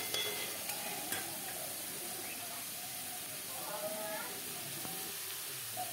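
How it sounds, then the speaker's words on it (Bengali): Morola fish frying in oil for a chorchori while being stirred, a quiet, steady sizzle with faint scraping from the stirring and occasional soft clicks. "মোরলা মাছগুলো একটু নেড়ে নেড়ে এর সঙ্গে ভেজে নেব।"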